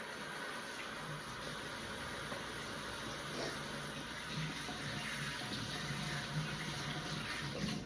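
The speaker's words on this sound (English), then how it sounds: "Excuse me while I wash my hands." Running tap water pours steadily into a sink while hands are washed in a home kitchen, a continuous hiss of flowing water at moderate level with no talking.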